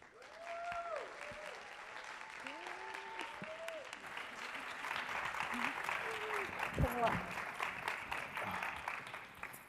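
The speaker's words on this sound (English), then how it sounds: "Let's give a welcome applause to all of our panelists" An audience at a conference panel applauds to welcome the panelists, with steady clapping throughout and a few whoops and cheers rising over it, swelling a little in the second half.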